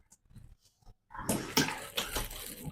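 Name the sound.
leftover water draining from soaked wheat through cloth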